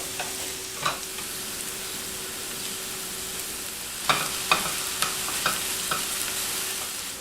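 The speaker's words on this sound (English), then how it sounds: "The vegetables are all cooked down and sauteed" Vegetables for a fresh soup sauté in a pan with a soft continuous sizzle, broken by a few sharp utensil scrapes and taps as they are stirred, close and without talk.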